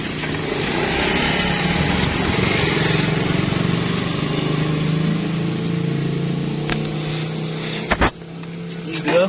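A Honda Vario injection scooter engine is held at full throttle in a workshop, a loud, steady high-revving drone close by that eases slightly toward the end, with a few sharp clicks and clatter near the finish.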